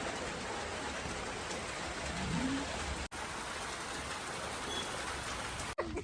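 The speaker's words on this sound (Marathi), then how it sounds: "आम्ही इकडे बघू शकतो पाऊस सुरू झाला" Steady, dense rainfall pours down throughout, a constant hiss of drops on surfaces with no voices, briefly cut by two short dropouts.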